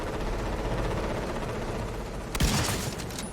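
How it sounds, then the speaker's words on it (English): Gunfire in The Division 2, a dense rattle of rapid automatic shots under game music, close and loud, with a sharper burst of fire near the end. "Let's shoot some elites."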